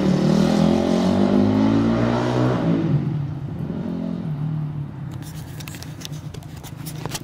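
A dirt bike engine idles and warms up close by with a steady low rumble, fading slightly partway through, joined later by light rattling and tapping.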